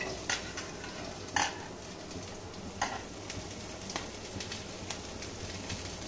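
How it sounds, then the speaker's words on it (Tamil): Pirandai sautéing in sesame oil, a low steady sizzle with occasional sharp scrapes of a ladle against the pan, close and quiet, no one speaking. "இப்போ இந்த பிரண்டையை போட்டு நல்லா வதக்கி எடுத்துக்கலாம்"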